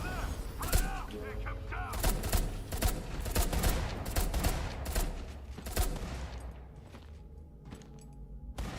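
Enemy gunfire in the horror game Beneath, rapid rattling shots and mechanical clatter, moderately loud, thinning out toward the end, with some speech mixed in.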